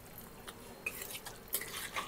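Pav bhaji thinned with water is stirred in a pan, producing faint, soft scraping and light clinks of the spoon against the metal over a low background hiss.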